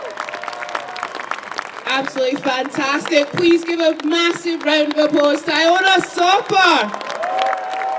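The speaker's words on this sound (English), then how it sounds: "Please give a massive round of applause to Iona Soper." Applause and cheering from an audience for a speaker at a Believe In Scotland event, a voice calling out a name over the noise, with continuous talk and whoops running through the crowd sound.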